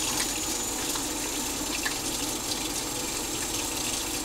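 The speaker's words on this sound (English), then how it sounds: "So the first thing I'm going to do is I'm going to wash my hands." Hands being washed under a running kitchen tap while preparing to cook homemade spicy pasta, a steady close rush and splash of water that holds evenly throughout with no talk.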